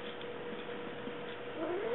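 A cat meows once, rising near the end of the clip, close to the listener over a steady low indoor hum, with no talking.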